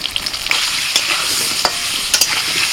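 Potatoes with salt and turmeric are stirred in hot mustard oil in a kadai, a loud close sizzle broken by repeated scraping spatula strokes, with no voices.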